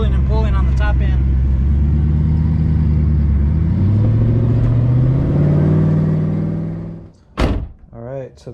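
A turbocharged taxi car engine pulls hard under acceleration, its steady drone rising in pitch as it revs up, then cuts off abruptly, followed by a brief burst of speech.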